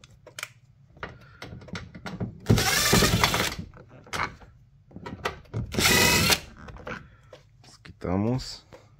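Power screwdriver backing out two screws from the door handle of a 1989 Chevy S10 pickup: two loud whirring bursts of a few seconds each, separated by someone speaking, with small tool clicks and handling noises around them.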